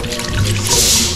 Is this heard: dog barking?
no